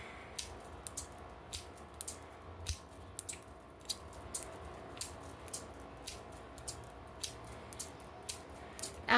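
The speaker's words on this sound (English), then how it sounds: "Now I'm going to begin cutting cords with my heavy-duty scissors" Heavy-duty scissors cut through cords in a quiet room, making a series of short, sharp snips at a fairly regular pace, close by but soft.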